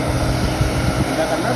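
A heavy-duty high-pressure blower machine running at about 5000 RPM, a loud steady close whooshing roar with a constant high whine.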